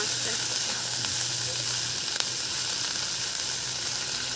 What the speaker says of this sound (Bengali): এইভাবে হালকা হাতে কিন্তু নাড়াচাড়া করে করে ভাজা করে নেবো মাছটা।